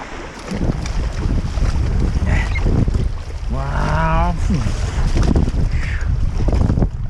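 Steady wind roars over open water as choppy, building waves slap and wash continuously in wintry Yakutia, with a brief mid-clip tonal wobble breaking through the dense, loud blowing noise.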